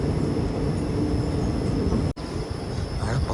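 A train on the Kacheguda to Nagercoil run rolls along slowly, a steady low rumble with a muted rhythmic clatter, briefly cut off for a moment before resuming, with no voices.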